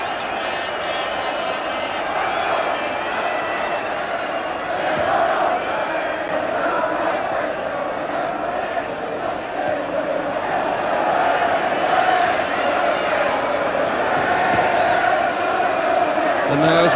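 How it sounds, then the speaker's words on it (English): Football stadium crowd at an FA Cup quarter-final replay between Derby County and Plymouth Argyle applauding the goalkeeper's simple collection, a broad continuous roar and clapping from a distant mass of fans under commentary. "gets great applause for a simple collection"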